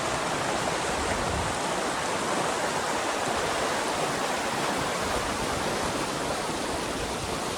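Zarwani waterfall roars in a loud, constant broadband rush of falling water, heard close and steady throughout with no talking.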